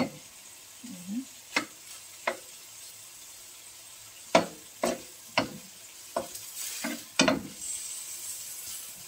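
Fried rice (sinangag) being sautéed in a pan, with irregular scraping stir strokes and spatula knocks over a steady low sizzle, close and moderately loud.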